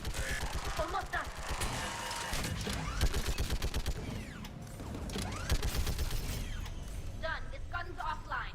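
Turret gunfire in the Mass Effect video game, a dense stream of rapid shots mixed with mechanical clatter, shattering impacts and creaks, loud and continuous, with game voices talking over it.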